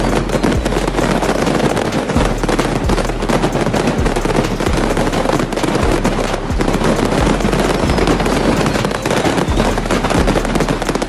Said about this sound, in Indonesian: Ledakan hebat dari kembang api warna-warni tersebut berlangsung beberapa menit